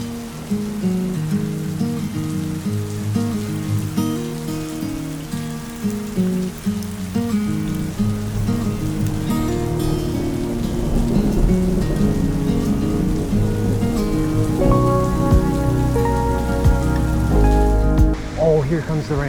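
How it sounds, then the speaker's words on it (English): Heavy rain pours in a forest during a storm, a loud continuous wash with low rumbles like thunder, while a steady musical drone runs underneath and swells toward the end. "here comes the rain for real"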